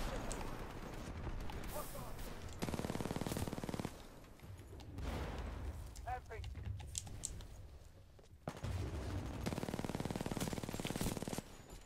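Sustained automatic gunfire from the shooter Titanfall 2, loud rapid bursts in several long stretches separated by quieter gaps with game dialogue and effects.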